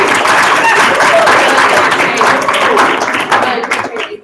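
Students applaud a guest speaker at a high school Hour of Code event, with dense, steady clapping that holds loud across the room and thins out near the end.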